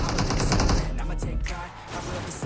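Gunfire in a battle royale shooter game, with rapid bursts of shots and sharp cracks packed closely together at a loud, dense level across the moment.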